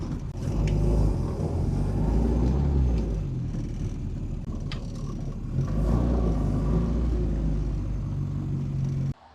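A 1965 Austin Mini Cooper S drives along with a steady low engine rumble and road noise from inside the cabin, rising briefly as it accelerates, continuous and close until it cuts off at the end.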